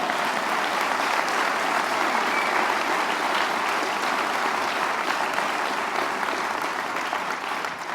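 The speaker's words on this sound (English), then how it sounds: "You can clap for that." An audience at a hospital groundbreaking ceremony applauds loudly and continuously, a dense, even roar of many hands that holds steady for the full stretch and fades slightly at the end.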